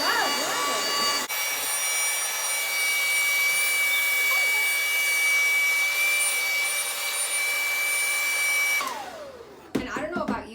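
A hair dryer heating vinyl wrap on a firearm magazine blows with a loud, steady whine and rushing air for several seconds, then cuts off abruptly.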